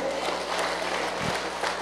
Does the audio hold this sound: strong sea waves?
no